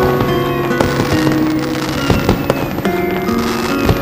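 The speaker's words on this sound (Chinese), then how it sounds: "漂亮的烟花呀，你喜欢吗？" Fireworks burst repeatedly in a dense, continuous volley of pops and crackles, loud and close, with overlapping bangs and no talk.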